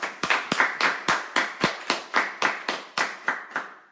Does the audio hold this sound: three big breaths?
no